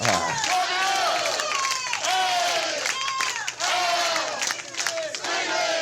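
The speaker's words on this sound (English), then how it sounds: "No, they're about to do a haka." A large crowd performs a haka, with rhythmic shouted chants rising and falling in repeated bursts, loud and sustained throughout with a dense roar of many voices.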